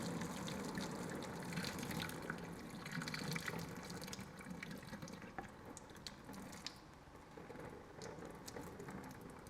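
Water from a pot of boiled potatoes is poured into a strainer in a home kitchen sink, a steady, faint gushing splash lasting several seconds with no voices.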